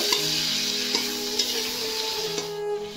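A fresh chilli paste and homemade spice mix stir-fried in a pan for a prawn and kohlrabi dish, with a steady oily sizzle and a few spatula scrapes and clinks against the pan, no voices.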